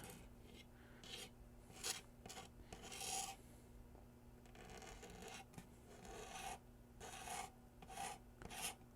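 Paint being scraped off the case of a 2002 IBM NetVista computer, with short raspy scraping strokes in irregular bursts, close but fairly quiet, no talking.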